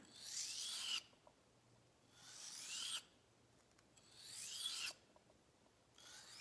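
A round knife's blade rasps across a 400 grit sharpening stone in three long, even strokes, each about a second or two, with short pauses between them, close and clear with no talking.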